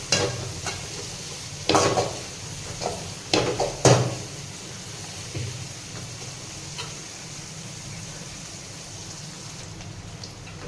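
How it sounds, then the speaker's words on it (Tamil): Food frying in a pan until golden brown gives a steady, soft sizzle, with a few sharp clattering knocks of stirring near the start. "பொன்னிறமாக வறுக்க வேண்டும்"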